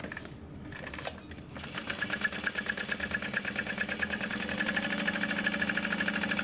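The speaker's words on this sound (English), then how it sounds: "We're going to top stitch all that lining together." A sewing machine topstitches the lining of a backpack, starting after a brief pause and then running in a fast, even mechanical chatter that grows slightly louder and steadier, close by with no voices.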